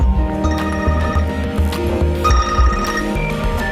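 A cell phone ringtone rings out loud and steady, its bright repeating melody carried over a soft musical backdrop with no talking.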